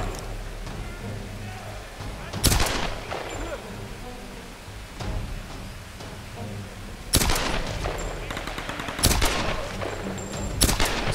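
Pistol shots in Tomb Raider (2013), several sharp, loud reports spaced irregularly over ambient game noise, with some talk underneath.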